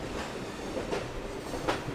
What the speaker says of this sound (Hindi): फिलहाल अपनी ट्रेन निकल चुकी है कटक रेलवे स्टेशन से पुरी की ओर।